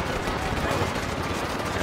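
Dense, continuous gunfire crackles through a Just Cause 3 city battle, a steady wash of distant and near shots with no clear gaps, while someone talks over it.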